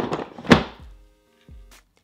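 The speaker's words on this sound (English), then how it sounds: "You wanna make sure that when you place it, it does have a secure sound" Flybird 25 lb adjustable dumbbell set down into its cradle, giving a solid clunk followed by a couple of softer low thuds as it locks into place, close and quiet.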